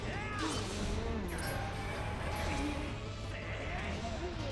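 Goats bleating in Twilight Princess HD, repeated wavering animal cries over a steady low game hum, with thuds and clatter mixed in and no talk.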